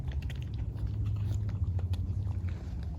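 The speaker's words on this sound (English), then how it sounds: "He'll chew pieces off of it." A dog named Tucker gnaws chunks off a thick birthday cake held out for him, a steady close run of wet chewing and biting sounds lasting the whole moment without any talk.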